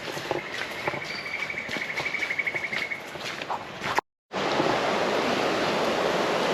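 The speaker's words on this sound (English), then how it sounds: "The creek is just below." A creek flows steadily just below a bush walking track near Lennox Head, giving an even, close rush of water with faint bird calls above it, briefly cutting out before the flow resumes.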